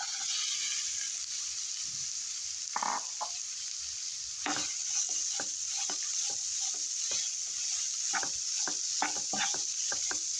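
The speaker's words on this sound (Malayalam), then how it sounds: "സവാള ഒന്ന് വഴന്ന് വരുന്ന വരെ ഒന്ന് ഇളക്കാം" Chopped onions sauté in hot oil with ginger and garlic, a steady close sizzle broken by repeated scraping clicks of a spoon stirring the pan, with no talking.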